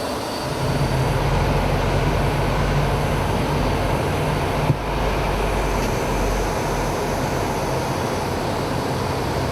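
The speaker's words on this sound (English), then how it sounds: "We're cleared for takeoff and advance the throttles to maximum power, and the HF120 engines push us forward." HondaJet Elite HF120 jet engines at full takeoff power give a loud, steady roar with a deep low drone underneath. The sound is sustained and even, with one brief click midway and no voices.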